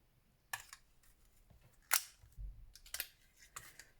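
A 1 inch craft paper punch cutting a shape from paper for bookplates, a handful of crisp separated clacks and snaps, fairly quiet in an otherwise hushed room.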